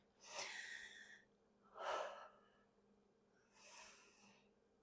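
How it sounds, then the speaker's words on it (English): Three heavy, breathy exhalations from a person during a no-equipment lower-body workout, close and fairly quiet, spaced roughly a second or two apart with near silence between them. "I know you can hear me breathing"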